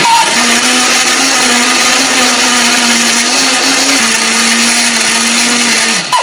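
A blender grinds spices with a little water steadily at close range with a loud, even whir for about six seconds, then cuts off abruptly at the end.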